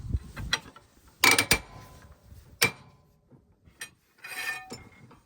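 A wrench with a snipe extension pipe tightens a fitting on heavy machinery, producing several close metallic clanks and ratchety clicks separated by short pauses, with faint handling noise between.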